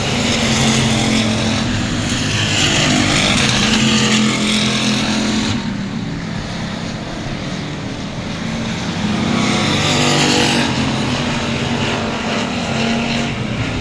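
Stock race cars roaring around a dirt speedway at Cotton Bowl Speedway, a dense continuous engine howl swelling and easing as the pack passes, loud and sustained throughout.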